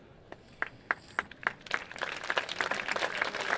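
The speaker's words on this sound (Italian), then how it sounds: "Un applauso chiaramente per Andrea Torniello." Audience applause for Andrea Torniello after a talk, starting as a few sharp separate claps and quickly building into dense, steady clapping from a sizable crowd that grows louder toward the end.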